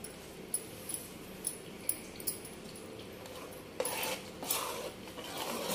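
Spoon stirring cauliflower pickle with ground fenugreek, mustard and chili powder in a bowl, giving repeated soft scraping clinks and a louder, denser mixing stretch toward the end, alone with no voices.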